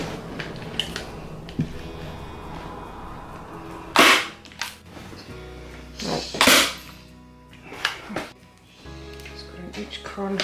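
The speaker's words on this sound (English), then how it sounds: "I'm just going to take in the corners and just do one staple to start with here" A staple gun fires into fabric at the corners of a bedroom furniture upholstery job, several sharp snaps spaced apart, with quieter handling noise between them.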